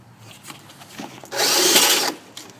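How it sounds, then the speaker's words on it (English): A power drill fitted with a large bore bit drills through a door during a lock installation, giving a brief loud whirring grind of about a second after some quieter handling noises. "attach the larger bore to the drill and make sure as you are drilling through"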